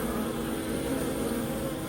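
Honey bees swarm around a trap set up for research into killer bee genetics, making a steady, dense buzzing drone that fills the whole stretch without pause, with no talking.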